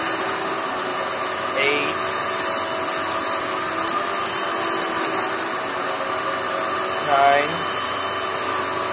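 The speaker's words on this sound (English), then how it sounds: "I'm moving it slower this time because I can hear it picking up the sand." Kenmore 600 series bagless vacuum picking up sand, a loud, steady high-pitched motor roar running throughout with faint gritty rattling, while a person counts aloud over it.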